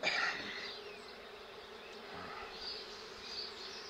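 Honeybees buzz around an opened hive, a steady, close, continuous drone with a brief louder swell at the start, no voices.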